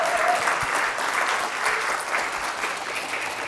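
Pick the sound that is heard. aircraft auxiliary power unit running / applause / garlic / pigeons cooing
applause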